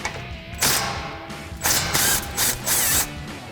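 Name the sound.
3/8 impact gun loosening a 12mm brake bolt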